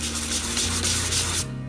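Short, continuous rasp of sandpaper smoothing the freshly cut plastic ring of a bottle for a GI Joe Jeep model, heard close and alone for under two seconds.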